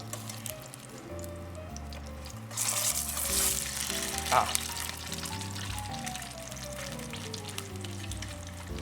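Salmon fries in a pan with a continuous close sizzle that swells louder midway, set against a tonal background sound.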